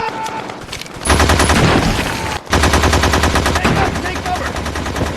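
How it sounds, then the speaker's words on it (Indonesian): Dense gunfire in a war-zone battle scene from the film The Hurt Locker, with loud sustained machine-gun bursts and rapid shots filling nearly the whole stretch and a brief lull partway through. "dia ditembak oleh orang tak dikenal dan langsung terjadi peperangan di situ"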